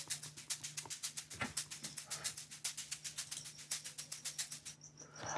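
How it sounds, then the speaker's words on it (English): Shaker loops from a sample pack play in an Amapiano track made in FL Studio, a fast, even run of crisp rattling hits with a soft steady hum beneath, alone and fairly quiet. "Very good shaker loops."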